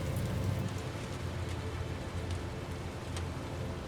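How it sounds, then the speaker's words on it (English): Steady, ordinary rain in the Death Stranding 2 video game falls as a continuous, even hiss of drops on surfaces, with a few brighter droplet ticks and no voices. "She brings like actual normal rain, not like timefall rain."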